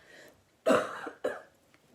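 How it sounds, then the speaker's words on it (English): A single close cough in two sharp bursts, the first stronger, with near silence around it. "Excuse me, I had to cough."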